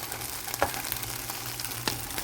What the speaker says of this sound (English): just let it simmer in there